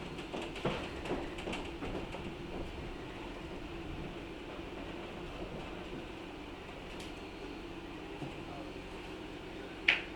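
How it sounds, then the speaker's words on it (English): Southern Railway #630, a steam locomotive and its train at a railroad museum on the Missionary Ridge line, rumbles steadily at low volume as it completes a turning move, with faint clanks and a sharp metallic click near the end. "We are finishing up the turning of the train."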